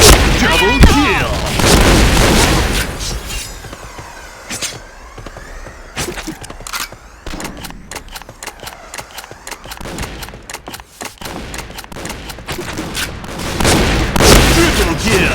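Grenade blasts and shotgun fire ring out in a shooter video game, with repeated booms and sharp bursts of gunfire, loud and dense at the start and end and sparser in the middle, under voiced game callouts.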